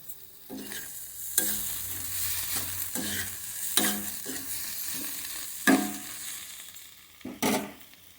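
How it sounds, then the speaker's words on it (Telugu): An egg and fenugreek-leaf curry mashed with a ladle in a hot pan: soft sizzling underneath, broken by several sharp scrapes and knocks of the ladle at uneven intervals, close by and without speech. "కొంచెం చిన్నగా గరిటతోటి ఇట్లా నలిపేసుకోండి అయిపోతుంది"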